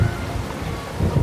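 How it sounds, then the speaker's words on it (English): Steady cartoon rain pours with a low rumble of thunder beneath it, a dense, continuous wash of storm noise with no voices. "The rain should stop by tomorrow morning"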